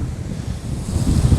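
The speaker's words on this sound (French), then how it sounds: "On sent bien l'énergie du vent là" Strong wind buffets the microphone on a rocky seashore while waves wash in steadily below, a loud, continuous roar with no voices.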